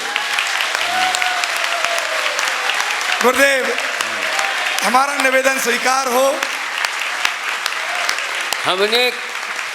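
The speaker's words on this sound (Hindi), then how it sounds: "कृपया तालियां बजा करके" An audience claps during a devotional stage event in Guna, a steady wash of applause running the whole time beneath someone speaking loudly into a microphone with sung or drawn-out phrases.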